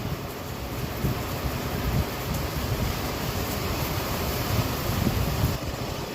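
Steady, roaring wind buffets the microphone throughout, a dense broadband rush with gusty swells and no voices.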